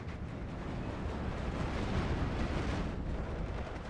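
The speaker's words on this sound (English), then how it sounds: "Mortar hitting the Pack 40s." A mortar shell strikes a Pak 40 anti-tank gun in the World War II strategy game Steel Division II, producing a dense, continuous rumble of blasts and low booms that stays loud for the whole stretch.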